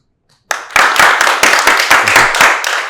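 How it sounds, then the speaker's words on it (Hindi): A studio audience at a Pakistani TV interview bursts into clapping after a short silence, loud close handclaps in a quick, uneven rhythm lasting a couple of seconds. "तो भरपूर तालियां होनी चाहिए"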